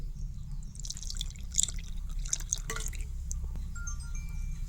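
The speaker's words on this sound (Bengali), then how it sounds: "4 চামচ আর আধা কাপ দুধ দিয়া দিন।" Milk goes into a homemade ice cream mixture with powdered milk and flour, giving a faint, brief trickle and a few soft drips over a low steady background hum.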